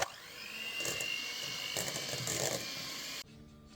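An electric mixer whipping vegan dairy-free butter whirs steadily at close range, its pitch wavering slightly as it churns, then cuts off abruptly near the end.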